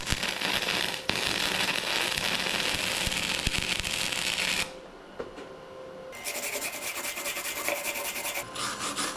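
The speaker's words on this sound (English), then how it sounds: "But I'm gonna go over my first weld." Flux-core MIG welding with a Titanium Flux 125 welder, laying a second pass over a first weld: a steady, close crackling sizzle that runs for several seconds, stops, then resumes after a brief quieter gap.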